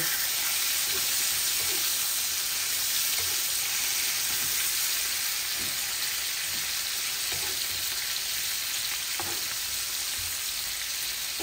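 Rohu fish sizzles and fries steadily in hot oil in a pan for a London home curry, a continuous close crackling hiss with small pops and occasional stirring scrapes, no voices.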